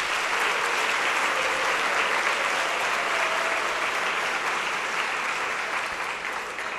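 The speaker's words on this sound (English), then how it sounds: "Please give him a round of applause." Sustained applause fills an awards ceremony hall, a broad, even wash of clapping from the crowd that stays strong throughout and eases only slightly toward the end.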